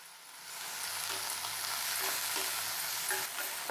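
Carrots, beans and cauliflower sizzling steadily in a hot pan while being stirred for a hot and sour vegetable soup, a close, even frying hiss with light scraping and no talk.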